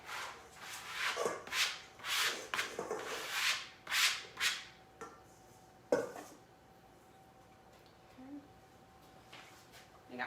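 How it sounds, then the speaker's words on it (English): A scraper dragging chopped food across a board into a bowl while meal prepping: a run of short rasping scrapes in quick succession, close up, then a pause and one more stroke before quieter handling. "Scraper behind me, so I'm just gonna scrape all of this"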